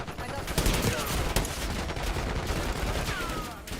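Gunfire in a Call of Duty Black Ops 6 campaign firefight: dense, continuous rattling shots and sharp cracks form a steady loud barrage for the whole stretch.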